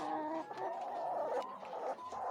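Laying hens cluck and murmur steadily in a busy flock, with overlapping soft calls close by and no talking.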